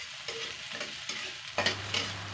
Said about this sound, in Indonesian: Bumbunya ini kita tumis sampai berbau harum ya